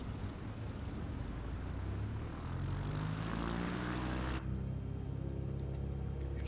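Carbon Cub propeller plane in the X-Plane 11 flight simulator powers up for takeoff, a steady loud engine drone whose pitch climbs as it accelerates, with no talking.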